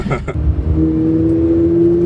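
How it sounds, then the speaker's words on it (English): A Toyota GR86 race car's engine runs at a steady, fairly loud drone from inside the cabin, settling into an even hum after a brief rougher start. "We are in a Toyota GR86."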